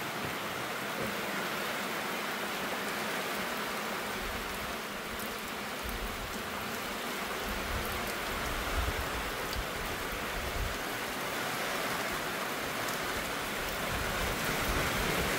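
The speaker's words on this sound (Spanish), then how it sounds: "Ahorita la lluvia todo lo que da." A downpour falls on the roofs of houses, making an even, dense wash of rain noise that holds steady from start to finish, close by and with no one speaking.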